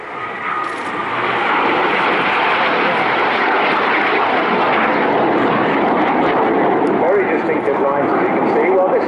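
A BAC Strikemaster jet training aircraft flies past at an air show, its engine roaring up from quiet to a loud sustained drone that holds steady, with a commentator talking over it.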